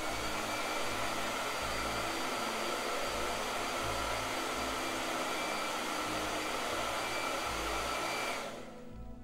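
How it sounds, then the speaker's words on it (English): Hair dryer blowing steadily on wet paint on a portrait painting, a loud continuous whooshing hum with no one talking, cutting off just before the end. "I'm going to blow dry this, okay?"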